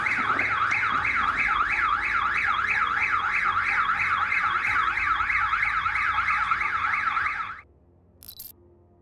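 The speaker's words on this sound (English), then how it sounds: "you could hear a siren wailing in the background" A warbling siren wails steadily and loudly, cycling up and down in pitch for several seconds and then cutting off abruptly, followed by a brief faint click.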